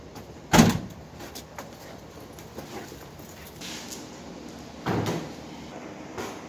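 Plastic carrying case of an Ironton electric drywall pole sander being handled, with a sharp clack of a latch or lid, quiet rustling, then a second thud as the tool comes out.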